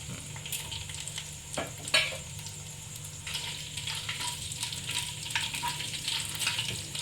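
Chopped coconut and cumin seeds being stirred in hot oil in a frying pan for a chhola dal and soyabean dish: a steady sizzle with scrapes of a spatula and one sharper knock, close up, no talking.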